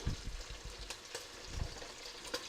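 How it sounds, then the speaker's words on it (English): Beef chunks searing in a pot as the first step of a stew, a soft steady sizzle with occasional stirring scrapes and taps, close but fairly quiet. "So we're going to cook the beef."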